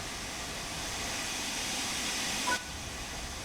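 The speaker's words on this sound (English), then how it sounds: "Open the cylinder cocks to remove any water from cylinders after it has been left standing." Steam locomotive cylinder cocks in Train Sim World 3 venting a loud, continuous broadband hiss of steam, with a brief squeal near the end, alone without voices.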